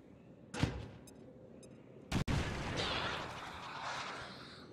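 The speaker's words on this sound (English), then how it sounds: "we can launch a frag grenade at them" A frag grenade goes off in the XCOM 2 strategy video game: a sharp blast, a second heavy crack a moment later, then a long rumbling roll of debris and noise that slowly fades.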